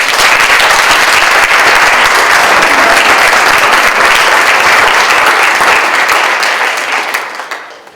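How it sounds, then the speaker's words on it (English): Loud, sustained applause from a large audience at a Peace Corps anniversary celebration, steady dense clapping that carries on for several seconds before tapering off at the end. "please give her our warm applause"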